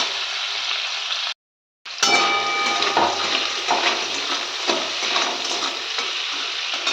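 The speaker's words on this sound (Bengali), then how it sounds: "একটু ভেজে নিই।" Food frying in a pan while being stirred, a dense, steady sizzle close by, broken by a brief silent gap before the crackling hiss resumes loudly with no voices.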